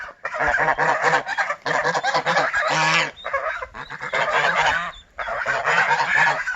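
Loud, repeated goose honking fills the clip, a dense flock calling almost continuously with brief pauses, close and harsh.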